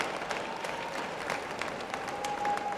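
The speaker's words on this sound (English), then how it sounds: "let's give another round of applause for our commencement orator, the Honorable Joseph R. Biden, Jr." Crowd applause for the commencement speaker, President Joseph R. Biden, Jr., at the 2023 Howard University commencement ceremony. The large outdoor audience claps steadily, dense and sustained at moderate distance throughout.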